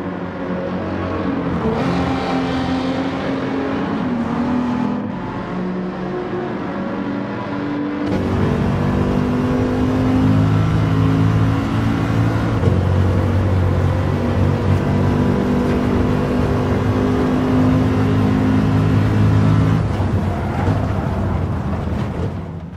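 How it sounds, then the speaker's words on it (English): Touring car engines race on the Tokyo Expressway circuit in Gran Turismo 7, a loud, continuous roar that rises and drops through gear changes, growing louder partway through, with no talking. "I'm gonna be quiet and let the engines speak."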